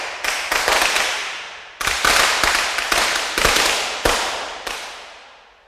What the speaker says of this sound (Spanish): Esos cohetes pudieron haber sido balas